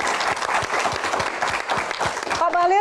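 A studio audience at a Q&A event for a guest claps steadily and warmly for a few seconds, dense and close, with a voice starting to speak as it ends.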